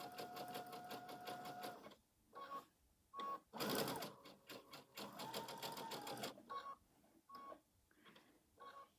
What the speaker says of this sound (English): if you don't know where the zigzag is on your sewing machine